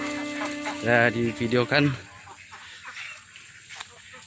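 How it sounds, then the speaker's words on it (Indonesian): Chickens at a farm hut cluck in a short run of loud, close calls, then quieter scattered clucks and rustling follow, with a person speaking over part of it. "Ada banyak ayam, ada peliharaannya ya."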